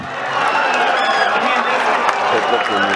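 A crowd at a traditional bull wrestling event in Yeşilova claps and cheers in a continuous loud wash, with an announcer's voice carrying over it.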